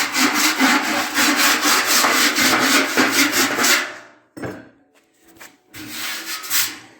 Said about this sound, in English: to quickly identify your high spots, you just grab a rasp, and it'll find them all